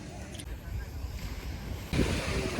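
Waves washing onto a sandy beach in Sardinia, a steady rushing wash with wind noise on the microphone that swells louder near the end, with a person's voice faint in the background.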